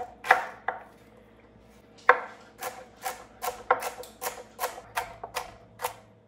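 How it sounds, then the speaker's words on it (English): Knife dicing carrots into a small dice on a cutting board, a run of crisp, close chops in an uneven rhythm, a dozen or so sharp strikes with short pauses, no talking. "Just a nice small dice."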